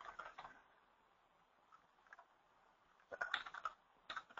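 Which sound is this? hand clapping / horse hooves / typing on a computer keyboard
typing on a computer keyboard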